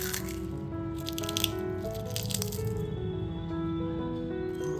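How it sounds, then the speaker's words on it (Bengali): Crispy homemade potato chips crunch in a few quick, crackly bursts close up, over a steady musical background. "চিপসের আওয়াজটা একবার শুনে দেখুন কতটা ক্রিস্পি হয়েছে"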